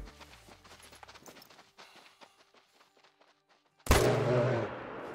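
A single sharp M1 Garand rifle shot in the hunting game Call of the Wild, fired with open sights, bursting loud and close after a stretch of soft rustling footsteps, with a short decaying tail.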